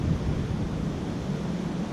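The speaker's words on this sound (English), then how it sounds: "The waves are a little rougher than a fisherman would like them to be" Rough ocean waves breaking on a beach where someone is fishing for perch at low tide: a steady, faint low wash of surf and wind, with no voices.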